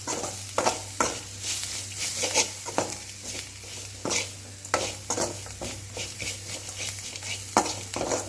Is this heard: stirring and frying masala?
yes